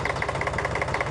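A tractor engine idles steadily on a farm, a close, continuous low rumble with a regular mechanical throb and no talk over it.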